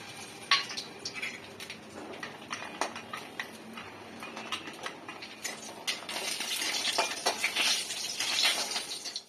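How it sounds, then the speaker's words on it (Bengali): Lentil dumplings (bori) frying in hot mustard oil, a steady crackle of small pops and sizzles that grows busier and louder toward the end, with no one talking. "এবার বড়িগুলোকে আগে ভেজে নিতে হবে, তাই বড়িগুলোকে আমি তেলে ছেড়ে দিলাম।"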